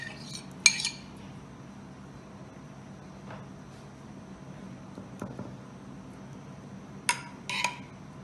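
A utensil spreads white sauce across a lasagna dish, with faint scraping under quiet kitchen ambience, broken by a few sharp clinks of metal against the dish near the start and near the end.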